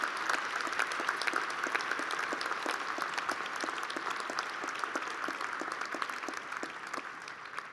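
Audience applause at a Georgia Tech Ph.D. commencement ceremony, a steady dense clapping from a large crowd that fills the whole stretch at even loudness with no talking over it.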